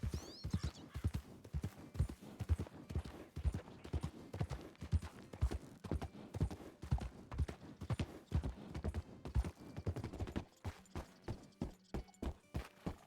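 In the video game Red Dead Redemption 2, hooves clip-clop in a steady, brisk rhythm, close and clear, with a brief snort near the start and the pace slowing toward the end.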